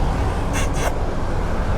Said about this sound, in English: All you have to do is make a kissing sound like this.